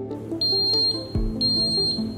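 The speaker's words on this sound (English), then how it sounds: "Buzzer will beep for 2 times" A high-pitched electronic buzzer on an alarm annunciator beeps twice, two steady tones close by with a short gap between them over faint background noise.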